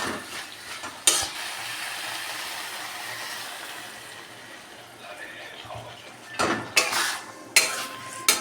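Mustard paste with chili fries in a pan for a small-fish curry, a quiet sizzle broken by sharp clanks and scrapes of a metal spoon stirring against the pan, several knocks in quick succession toward the end.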